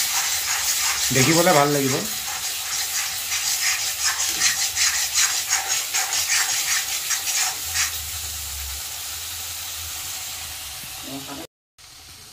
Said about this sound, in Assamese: আপোনালোকৰ জলকীয়া গুড়িটো অলপমান তেলত দি দিব